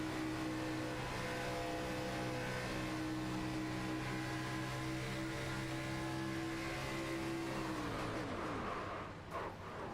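A race car on a track braking hard with locked-up brakes, its steady engine drone and tonal whine holding loud and continuous before dropping away as the car slows to a stop near the end.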